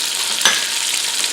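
Onions frying in a pot, a bright, even sizzle close by with a short sharper crackle near the start, no voices.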